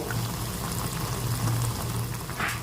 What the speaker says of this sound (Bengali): এখন কিছুক্ষণ এভাবেই রাখছি একটা পাশ একটু ভেজে নেওয়ার জন্য